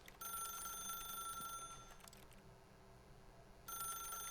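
Telephone ringing in The Stanley Parable: a faint electronic bell trill rings, stops briefly and starts again near the end, over a low background hum.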